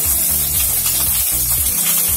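Ginger and curry leaves frying in hot oil for a traditional Tamil cauliflower dish, giving a steady, close, loud sizzle with faint crackles throughout.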